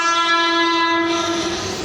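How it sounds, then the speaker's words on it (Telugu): A train in a video game rolls past beside the playing ground, its loud, steady horn tone sounding over the rumble of the cars, close and alone. "ట్రైన్ పక్కన ఉంది గైస్ ఈ గ్రౌండ్, దానికి అలా సౌండ్ వస్తుంది."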